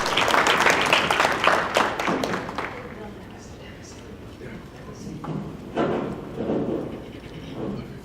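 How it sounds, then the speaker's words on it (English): Crowd applause fills a hall at a community political alliance event, a dense burst of clapping that fades over a few seconds, followed by scattered voices and room noise. "Give yourselves a round of applause"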